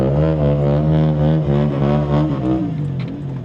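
A vehicle's engine drones loudly and steadily close by as it pulls away, the tone wavering slightly and easing off toward the end, no voices.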